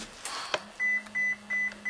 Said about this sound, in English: Did your phone just go off?